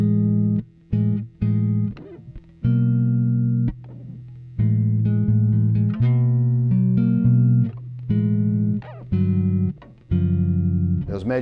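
Major seventh chords ring out on a Fender Vintera II '70s Competition Mustang bass, played as separate sustained strums in an uneven rhythm with short gaps between them, close and clear with no talking.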